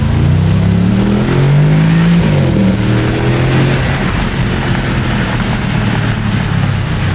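A Porsche 958 Cayenne Turbo with a secondary cat delete accelerates hard in first gear, its loud exhaust rising in pitch, then settling into a steady roar heard from inside with the windows down.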